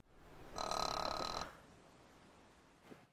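A woman snores once in a single loud, rasping, tonal snore at close range, followed by quiet breathing and faint background noise.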